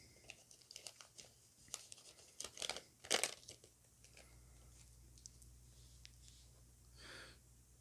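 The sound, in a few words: Pokemon cards being put back into their foil pack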